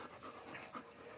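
A dog pants close by in quick, soft, rhythmic breaths, faint and alone with no voices.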